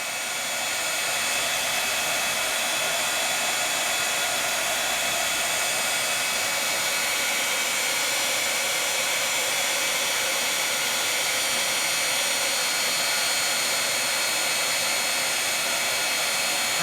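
Embossing heat tool blowing hot air over melting plastic, a loud steady whooshing hiss that runs unbroken from start to finish with no voice over it.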